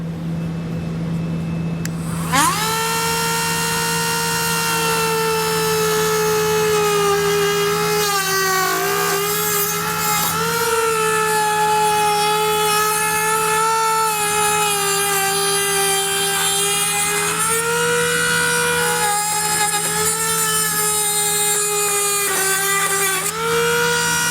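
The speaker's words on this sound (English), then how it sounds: "And I'm going to use a Dremel tool here, but this is pretty thin plastic." A Dremel rotary tool trims thin plastic bumper fascia on a 2021 Subaru, a steady high-pitched whine that bogs and rises as it cuts, running loud and continuous for about twenty seconds after a brief start.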